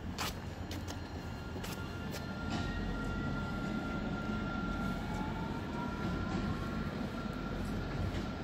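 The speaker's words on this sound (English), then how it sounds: "Also coming in, it's going to be the 10:40 East Midlands Railway service to Norwich." East Midlands Railway train arriving at Nottingham station, a broad steady rumble with a thin squealing whine from the wheels and sharp clicks over rail joints, alone and moderately loud throughout.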